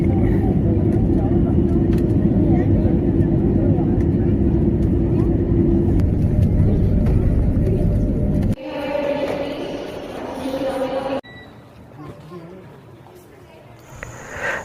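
Loud, steady roar of a jet airplane landing that cuts off abruptly, leaving quieter cabin noise with brief mechanical shifts.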